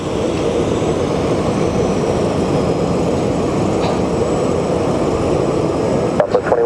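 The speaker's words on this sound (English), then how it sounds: "As our Southwest flight is on its takeoff roll." A Southwest airliner on its takeoff roll at Phoenix Sky Harbor, a steady, loud roar of jet engines that holds evenly throughout, with a few faint clicks near the end.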